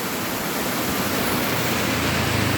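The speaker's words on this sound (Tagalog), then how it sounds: "Yan po yung ulan dito." A downpour of heavy rain roars in a thick, constant wash of noise, close and loud, with no talking.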